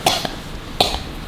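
A woman with a long-lasting cough coughs twice, each a sharp close burst with a short follow-up, separated by a brief quiet pause.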